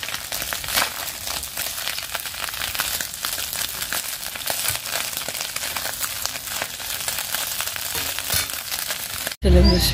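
Fish rubbed with salt and turmeric fries in a pan with a busy, crackling sizzle full of dense spitting pops. It runs steadily close by, then cuts off abruptly near the end.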